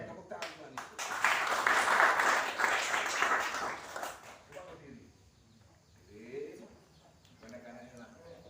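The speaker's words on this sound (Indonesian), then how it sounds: "Tepuk tangan Tuhan itu." A church congregation at a Sunday worship service breaks into loud, sustained applause that swells for about three seconds and then fades, followed by quieter room noise and a few scattered sounds.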